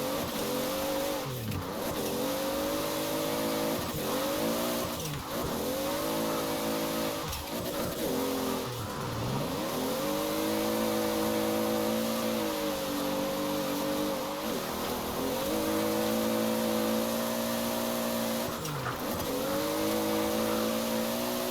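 A Toyota Supra drifts in the racing game Forza Horizon 4. Its engine drones steadily and loudly, rising and dipping over and over as it revs, with tire squeal running underneath the whole time.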